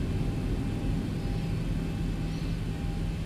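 Boeing 737-800 taxiing in X-Plane 11, heard as a steady, low engine rumble and broad airy hiss inside the cockpit, with a faint whine running through it and no voices.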